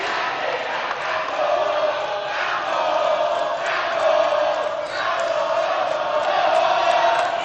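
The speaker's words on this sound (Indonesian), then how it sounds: "Boleh tepuk tangannya dari pendukung paslon nomor 1." Crowd of candidate supporters at a 2024 Central Java regional election debate, a loud continuous wash of applause and cheering with whoops and shouts rising and falling, steady throughout.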